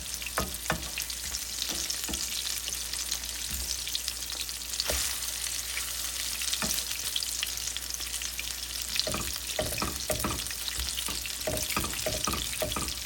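Shrimp chapli kebab patties frying in oil in a pan, already turned once: a dense, continuous crackling sizzle fills the whole clip, with scattered louder pops and utensil taps toward the end, with no voices.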